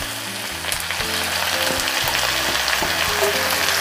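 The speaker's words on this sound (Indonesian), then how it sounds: "Saya tumis terlebih dulu bawang merah dan bawang putih yang sudah diiris tipis." Thinly sliced shallots and garlic sautéing in hot oil, a loud, steady, close crackling sizzle that swells slightly as it goes, with light stirring and no talk.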